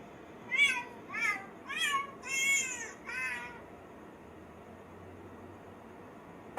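A cat meows five times in quick succession, close and clear, with the short rising-falling calls running together before the room falls quiet.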